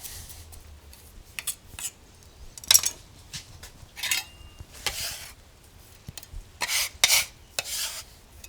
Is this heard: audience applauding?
no